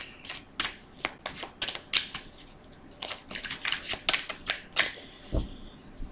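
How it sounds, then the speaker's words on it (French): Tarot cards are shuffled by hand in a run of quick crisp riffling bursts and soft slaps, close and clear with no talking, ending in a slightly heavier thump. "je vais rebattre encore un petit peu et puis donc je vais procéder donc à la coupe et au tirage"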